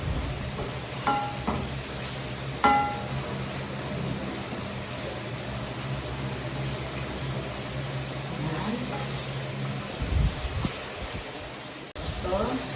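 Chicken steak with its skin on browning in a frying pan, a steady sizzle and crackle running throughout with occasional stirring clinks, while a person talks over it.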